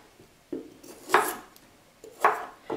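A knife trims the ends off green beans on a cutting board, giving three or four separate crisp cuts and taps spaced about a second apart, close and fairly quiet with no talking.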